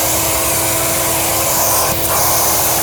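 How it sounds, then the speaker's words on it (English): A Festool dust extractor vacuum runs loudly and continuously at close range, a steady broadband roar of suction while concrete dust is extracted, with no talking. "The loudest thing on the vacuum is the sucking power."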